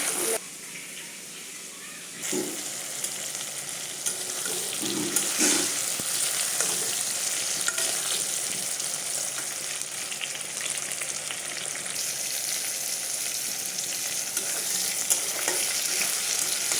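Pointed gourd (potol) pieces frying in hot oil, a steady dense sizzle running throughout with occasional soft clinks and stirring scrapes, close and fairly loud.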